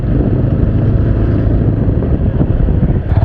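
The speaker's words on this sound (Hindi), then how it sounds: "तो देख सकते हैं आप कितने आसानी से ये जो बाइक है स्पीड पकड़ लेती है इन स्पोर्ट्स मोड।" A TVS Apache 200 4V motorcycle accelerating in sport mode, heard as a loud, close engine rumble buried in heavy wind buffeting against the microphone, steady throughout with no voices.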